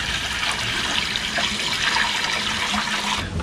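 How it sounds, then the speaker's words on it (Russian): Water pours steadily into a barrel while filling it to flush a gas water heater's heat exchanger, a continuous close rushing splash that stops abruptly near the end. "Итак, делаем заполнение."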